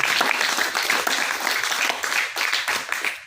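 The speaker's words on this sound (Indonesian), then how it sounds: "kita beri aplaus" Audience applause at a school student council candidate debate, a steady dense wash of clapping from many hands filling the room throughout, with faint voices mixed in.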